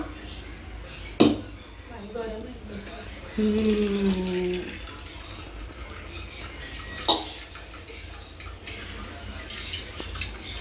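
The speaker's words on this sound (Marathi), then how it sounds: "आम्ही सगळंच पाणी याच्यातलं काढून टाकणार आहे" Hot water drained from a pot of ramen pours and splashes into a basin for a few seconds, bracketed by sharp metallic knocks of the pot, with faint background noise.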